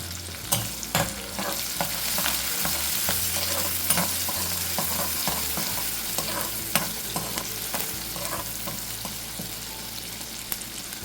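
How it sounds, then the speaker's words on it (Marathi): Curry leaves and spices sautéed in hot oil, with steady frying sizzle and repeated sharp clicks of a spoon stirring against the pan, close and continuous for the whole stretch. "आता हे सर्व आपण तेलावर परतून घेऊया."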